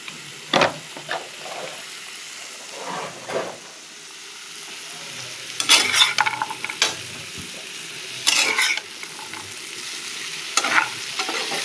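Bori lentil dumplings drop into shukto cooking in a pan, giving a steady sizzle with repeated bursts of stirring and clattering scrapes spread across the scene.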